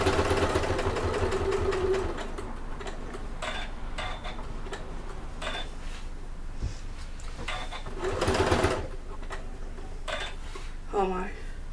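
A sewing machine top stitches a convertible fabric bag in rapid rhythmic bursts, whirring runs broken by pauses and clicks, close-up, with someone talking at times.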